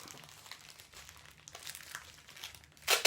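Tape is wrapped around a homemade children's dumbbell made from small tins, giving soft crinkling and light rustles that end in a sharp, louder tearing pull.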